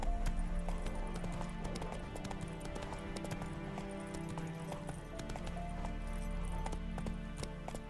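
Roach, Geralt's horse in The Witcher 3, gallops with a rapid, steady clip-clop of hooves close by, over a constant ambient backdrop.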